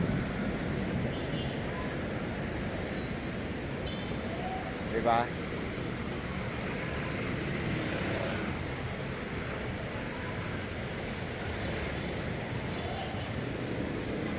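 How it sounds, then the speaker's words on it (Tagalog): Heavy, slow-moving traffic in the EDSA bus lane gives a constant broadband roadway rumble of engines, with a short voice cutting in briefly partway through. "malulula ka sa haba ng traffic."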